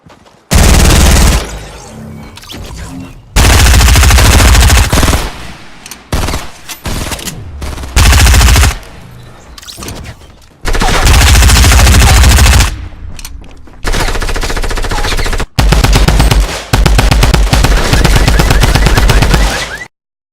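SMG gunfire in Fortnite Battle Royale, loud rapid automatic bursts of several seconds each separated by short gaps, with sharp close shots and no talk.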